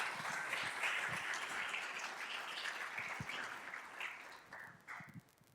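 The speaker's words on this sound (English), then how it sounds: "one more round of applause for a welcome for Adrian Wojnarowski." An audience applauds to welcome a guest at a sports media talk event, a sustained wash of clapping heard from a distance and quietly, tapering off near the end.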